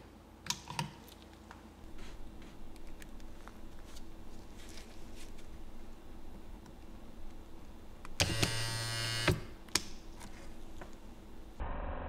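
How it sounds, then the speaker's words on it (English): An electric car window motor runs briefly when power is applied with reversed polarity, giving a loud buzzing whine of about a second that stands out from faint clicking and background noise before it. "So as we saw, we got the motor moving"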